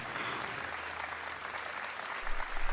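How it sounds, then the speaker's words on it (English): Applause from a comedy-show crowd, a steady dense clatter of clapping that carries evenly through the moment and swells slightly near the end. "the very generous applause you've just given me"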